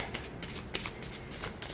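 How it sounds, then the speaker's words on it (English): Tarot cards from an antique anatomy deck riffle through an overhand shuffle in quick, soft bursts of papery slapping, close and steady with a few sharper flicks. "It is good for overhand shuffling."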